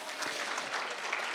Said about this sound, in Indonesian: Tepuk tangan untuk mereka semuanya